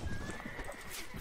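A horse in the video game Mount & Blade: Warband, Blood and Steel mod, gives a short whinny amid battle noise, with hooves clopping faintly underneath.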